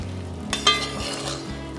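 Sugar mixture for glazed bananas bubbling at a boil in a pan, a steady close hiss and sizzle with a brief clink of a utensil near the middle.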